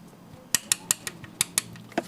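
Light metallic valve-train ticking from an idling motorcycle engine just after valve adjustment, a series of sharp, fairly regular taps close by over a low running rumble.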